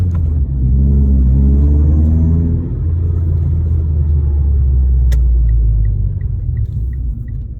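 A car engine rumbles loud and close while driving, rising in pitch as it accelerates and then settling. A few faint clicks come through as the manual gearbox shifts with a Mishimoto weighted shift knob.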